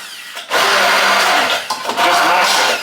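A kitchen grinder mashes pressure-cooked food, a loud close whirring motor that starts abruptly, runs steadily, dips briefly mid-way and then resumes at full strength.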